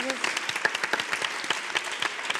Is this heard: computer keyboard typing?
no